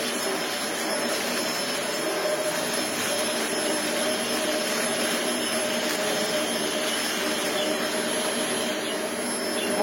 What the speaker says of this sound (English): is the brush roll going to spin now?